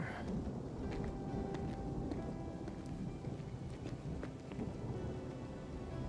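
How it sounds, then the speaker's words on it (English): Rain and thunder in the Final Fantasy 7 Remake video game: a steady wash of rainfall with low rumbling and scattered sharp cracks throughout, fairly quiet and continuous, no talk over it. "I ain't gonna stop that rain from hitting you on the head"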